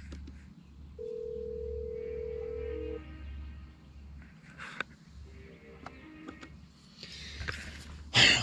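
A telephone carried over an off-grid emergency mesh network plays a steady dial tone for a couple of seconds, followed by a series of short dialing tones, with faint background hum and a loud click at the end.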